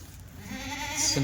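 Kathiawadi goats being sold as milk goats let out a short bleat near the end of a brief moment of farmyard background noise.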